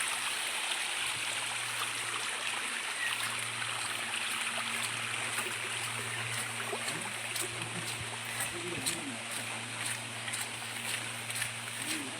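Wasted water flows away in a stream at Kallumala, a steady, unbroken rushing wash that stays at an even level throughout.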